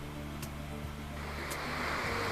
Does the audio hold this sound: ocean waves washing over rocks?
yes